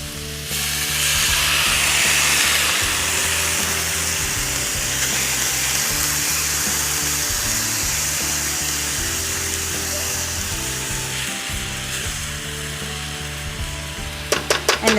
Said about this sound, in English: So I'm going to add it directly to our dish that's sizzling already.